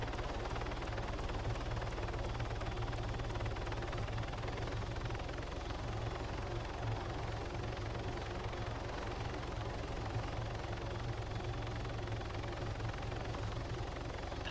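Helicopter hovering in Arma 3 during sling loading: a steady, loud, continuous rotor and engine drone with a heavy low rumble that holds unchanged throughout, with no talk.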